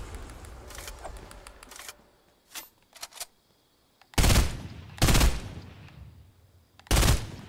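Gunfire in the video game Fortnite, Chapter 1 Season 5, heard as a few scattered muffled shots followed by three loud, sharp blasts spaced about a second apart.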